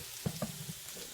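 Tilapia pan-searing in a frying pan gives a close, steady sizzle with a couple of soft knocks from the pan.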